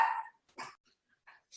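House dogs bark in a few short, sharp bursts separated by silence, fairly quiet and somewhat distant, sounding an alarm as people come home.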